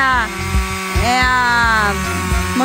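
A chainsaw or brush cutter runs close by at a rural country property, its motor whining with revs that rise and fall, while a person talks over it.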